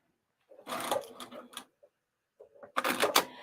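A sewing machine stitches a cross-body bag in two short close bursts of rapid mechanical whirring, separated by a pause with a few faint clicks.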